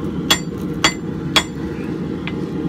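Three ringing hammer blows strike scrap steel on an anvil while forging a Viking axe, followed by a lighter tap, all over a steady low roar in a workshop.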